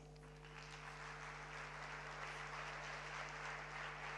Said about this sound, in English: let's welcome Akhtar Badshah with a warm applause